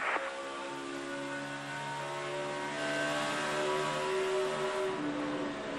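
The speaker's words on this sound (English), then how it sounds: "Two Toyotas out front, a Chevy and two Fords chasing them, Michael." Stock cars racing in the 2012 NASCAR STP 400, Toyotas leading with a Chevy and Fords chasing, a sustained engine whine rising and falling in pitch as the pack passes, moderately loud with no talk.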